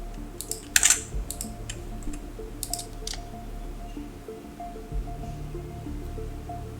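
Sparse keyboard taps from a value being typed into a field in Unreal Engine 5.6 software, a few quick clicks clustered early then fading, close and fairly quiet over steady low room hum.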